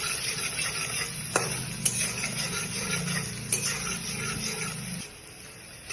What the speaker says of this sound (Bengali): আস্তে আমি ভাজার জন্য পেঁয়াজ দিয়ে দেবো